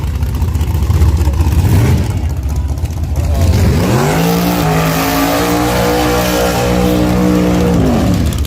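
At a dragstrip grudge race, a drag car's engine rumbles and then launches, its note climbing sharply into a loud, sustained wail as it pulls away. Crowd noise fills the background throughout.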